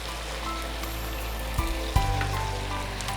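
Ingredients sautéing together in a pan in a home kitchen, a steady close sizzle and crackle with a couple of sharp knocks from utensil contact partway through.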